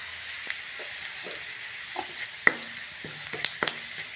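Onion frying in a pan for paneer korma gravy makes a soft, steady sizzle, with a few sharp clinks and scraping stirs of a spoon near the end.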